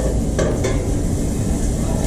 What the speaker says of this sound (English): we've got all that sauteed, got the sausage in there